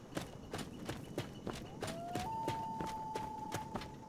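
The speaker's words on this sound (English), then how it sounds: "the horse whistle is that no matter where he is, he will just start running towards us" Horse hooves in the Skyrim video game beat a steady, rapid clip-clop rhythm at moderate distance, while a thin rising whistle tone slides up midway and holds steady beneath the galloping.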